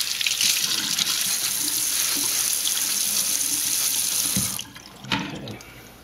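Running tap water pours over a plastic hydroponic net pot during rinsing, a loud steady splashing stream that cuts off near the end, followed by a few brief knocks and drips.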